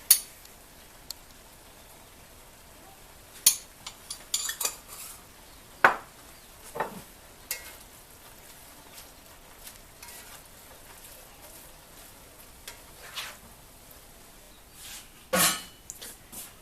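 Venison frying in a pan while being stirred: a faint, low sizzle broken by scattered clinks and scrapes of a utensil, with a few sharper knocks, close by and without talk.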